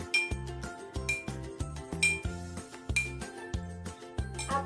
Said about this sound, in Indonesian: Coba kita pukul gelas ini dengan sendok.